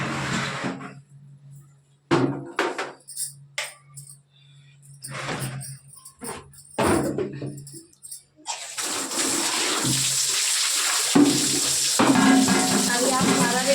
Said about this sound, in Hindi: पानी चल रहा है, हम थोड़ा पानी भर लेते हैं।